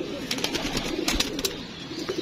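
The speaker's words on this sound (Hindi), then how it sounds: "ये जो चीने हैं कबूतर" Pigeons cooing at close range at a home loft, soft repeated low coos with faint background rustling.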